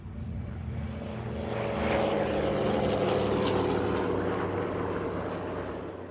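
Miss Montana, a vintage twin-engine propeller aircraft with both engines rebuilt, flies past with a loud, steady droning roar that swells and fades slightly as it passes, with no voices.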